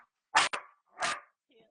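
A dog barks twice close by during a home livestream, two short sharp barks roughly half a second apart, then quiet.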